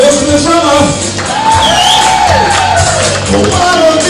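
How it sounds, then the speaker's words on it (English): A live audience cheers and shouts for a band's drummer, with whoops and yells rising over a dense, loud crowd roar that holds steady throughout. "And a applause for the drummer."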